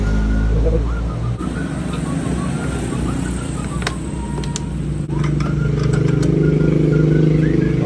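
A carburetor-type motorcycle engine revs loudly and steadily close by, a continuous throttled roar with some mechanical clatter through the whole stretch.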